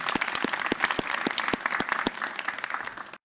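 Audience applause at a poetry event, dense clapping from a small crowd with individual sharp claps standing out, steady for a few seconds before tapering off.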